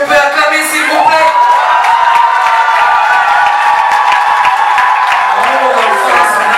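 Wedding guests at a civil marriage ceremony in Gabon cheer and clap in a loud, sustained crowd roar, whoops and applause filling the whole stretch with voices mixed in.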